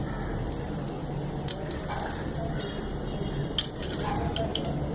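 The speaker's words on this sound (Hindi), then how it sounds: "और ये जो हमने कबाब अंडे में डिप किया था वो हम इसमें फ्राई करेंगे।" Egg-dipped beef shami kabab frying in hot oil, a steady close crackle and sizzle with scattered sharp pops throughout.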